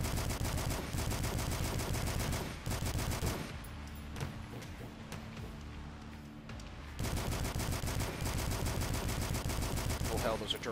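Rapid turret gunfire in the retro shooter DUSK, a dense relentless stream of shots that drops briefly to quieter clattering before resuming at full blast, loud and close.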